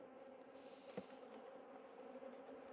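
Honey bees hum steadily in an open hive during a colony inspection, a soft, continuous drone with one brief louder buzz as an insect passes close, no voices present.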